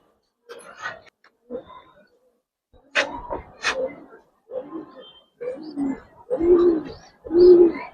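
Giribaz pigeons coo in short low bursts, one of them sitting on eggs in a coop, with several soft calls growing louder toward the end and faint handling sounds between them.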